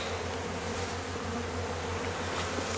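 Honeybees buzz steadily around an opened hive where a queen cell is in progress, a dense, continuous close-up hum with no talk.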